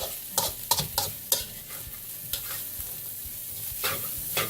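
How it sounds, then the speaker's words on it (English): Onions cooking soft in a pan for baked spaghetti sauce, with a steady close sizzle and repeated scraping stirs of a utensil across the pan bottom, several sharp strokes early then quieter stirring. "cook the onions until they're nice and soft"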